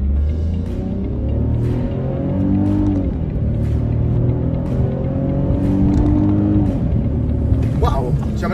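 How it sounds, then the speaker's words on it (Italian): 2016 Smart fortwo 70 1.0 twinamic at full throttle, engine droning and rising in pitch through several gear changes, loud inside the cabin with a voice speaking over it. "vediamo un po' come va in accelerazione, il cambio marcia e schiacciamo a tavoletta"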